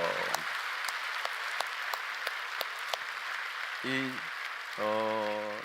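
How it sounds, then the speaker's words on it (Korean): A church congregation at a Friday night worship service claps sparsely to welcome missionaries, scattered individual claps fading out before a voice begins speaking. "박수로 뜨겁게 환영하겠습니다."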